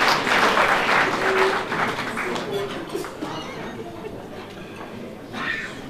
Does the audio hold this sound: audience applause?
yes